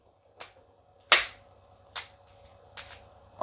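Four sharp cracks from an airsoft/pellet pistol, firing a heavy 17.7 grain pellet across a chronograph, spaced under a second apart with a faint steady hum beneath, each shot short and snappy.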